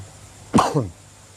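A single sharp cough, close and loud, breaking an otherwise quiet room with a faint low hum.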